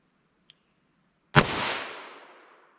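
A single sharp revolver shot from an S&W Model 69 firing a .38 Special round at close range outdoors, a loud crack followed by a short fading tail, with a faint click just before.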